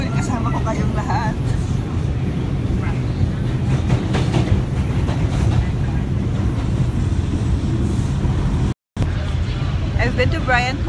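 A train in New York rumbles steadily close by, a continuous low roar with rattling, while people talk over it throughout.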